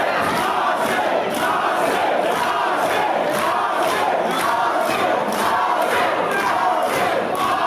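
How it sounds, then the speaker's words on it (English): A wrestling crowd at a CSW Legacy event roars continuously for Austin Lee, a loud and dense cheer with a rhythmic, pulsing chant running through it. "Crowd really behind Austin here tonight."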